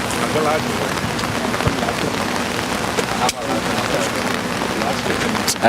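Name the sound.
rain falling on a microphone outdoors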